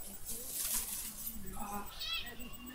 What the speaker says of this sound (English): we've got somebody meowing